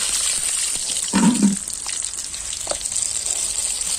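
Chillies and bay leaf sizzle in hot oil for a country-style Chhattisgarh chicken curry, a steady hiss with a short louder burst of crackling as they drop into the pan.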